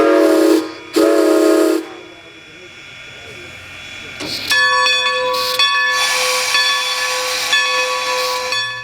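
Strasburg Rail Road steam locomotive hisses loudly in two bursts, then sounds a sustained multi-tone steam whistle that rings steadily for several seconds, close and strong.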